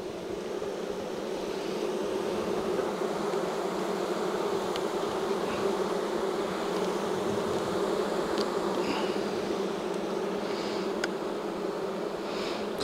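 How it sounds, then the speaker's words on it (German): Honey bees swarm at a hive's bee escape in a dense, steady buzz that stays loud and continuous throughout, with occasional closer individual bees flying past. "Ja, sind noch eine Menge Bienen da."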